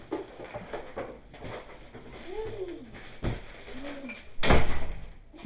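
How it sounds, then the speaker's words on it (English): A door slams shut with a loud, sharp thud near the end, following quieter room noise and a couple of brief tonal hoot-like sounds earlier. "Why you slam the door?"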